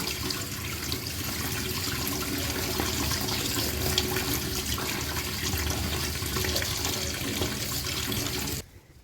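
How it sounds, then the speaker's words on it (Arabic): Fresh mint leaves are washed under running tap water in a kitchen sink. A steady, close splashing flow runs throughout and cuts off abruptly at the very end. "هنغسل النعناع بتاعنا"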